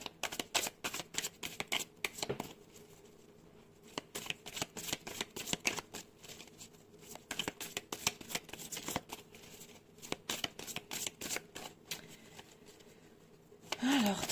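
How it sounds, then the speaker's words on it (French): Tarot cards handled and shuffled up close in repeated riffling bursts of crisp flicks and slides, with brief pauses between rounds and a quiet room behind them. "On va aller prendre 3 cartes."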